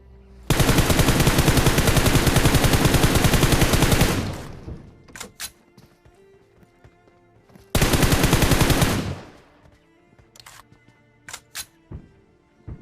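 Long automatic bursts from a Glacier gun in the game BGMI hammer out rapidly, two sustained volleys separated by a pause, each trailing off into scattered single shots and clicks.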